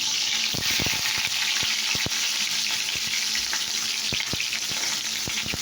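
Bitter gourd fries in hot oil in a wok, a loud continuous crackling sizzle dotted with sharp spattering pops and clicks from start to finish.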